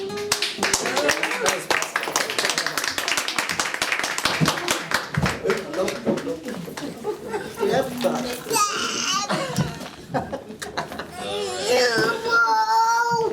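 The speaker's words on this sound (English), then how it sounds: "please give him a big round of applause." Audience applause at a classical guitar recital fills the room in a dense, steady patter of many hands, mixed with chatter and scattered voices, then fades toward the end.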